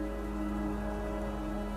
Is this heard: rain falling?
yes